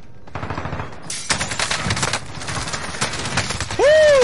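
Video game gunfire, rapid machine-gun bursts in clusters with short pauses, close and loud, ending in a sharp rising-and-falling synthetic tone.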